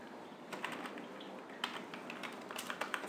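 Fingers typing on a computer keyboard during data entry into an Excel sheet, a quiet, uneven patter of close key taps over low room noise, with no speech.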